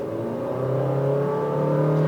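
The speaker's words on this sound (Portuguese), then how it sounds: "o barulho do motor invade bem aqui dentro" A car engine revving up steadily as it pulls away, its pitch climbing smoothly, heard from inside the cabin.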